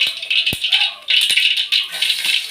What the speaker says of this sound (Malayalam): ചട്ടി അടുപ്പത്ത് വെച്ചിട്ടുണ്ട് നമുക്ക് കടുവ് പൊട്ടിച്ച്